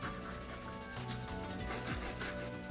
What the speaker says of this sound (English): I'm gonna go in with the crayon and color in its feet,